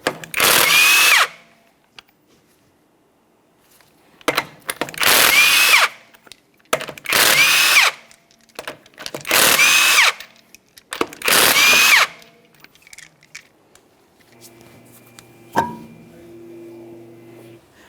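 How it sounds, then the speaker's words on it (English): A power tool zips off the 19mm lug nuts from a 2012-2015 Honda Civic 1.8L wheel in five loud, close, whirring bursts separated by short pauses, then a faint clatter. "We're going to have to remove the wheel by removing all 5 of our 19mm lug nuts"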